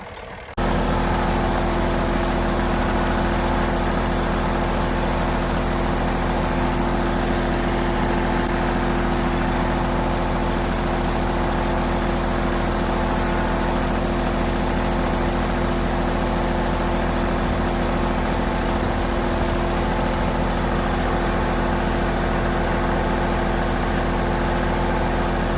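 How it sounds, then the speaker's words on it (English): A small John Deere tractor engine idles steadily after a repair with water working through its cooling system, a loud, continuous low rumble with even vibration and no change in pace across the whole stretch. "There she goes. Not too bad. I'm going to keep an eye on it and let it run."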